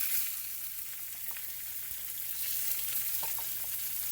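Salmon fries in a hot skillet, giving a steady bright sizzle with a few small pops and crackles, close and fairly quiet with no voices.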